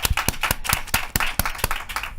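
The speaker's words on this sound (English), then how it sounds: "you guys give a round of applause for Krista L." A small audience claps in welcome for a guest at a real estate talk event. The claps are close and fairly loud, forming an uneven, brief round of applause.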